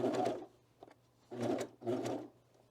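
A sewing machine stitches through four thick fabric layers around the edge of a Marley hood with cat ears, running in three separate bursts of steady motor hum with short pauses between them.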